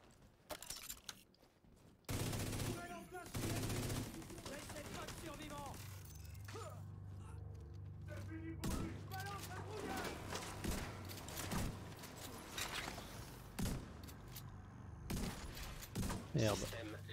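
A heavily armoured enemy's Gatling heavy machine gun in The Division 2 roars in sustained, dense bursts from about two seconds onward, with talking running over the gunfire.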